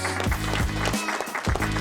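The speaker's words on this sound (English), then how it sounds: "You get a round of applause" A round of applause sound effect plays during a gaming podcast livestream, bursts of clapping that rise and fall in a rough rhythm, with a voice faintly mixed in.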